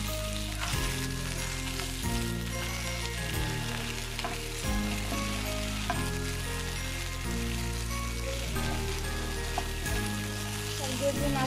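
Taki fish fries in a pan, turned to cook both sides, with a low, steady sizzle and crackle running throughout beneath soft background music.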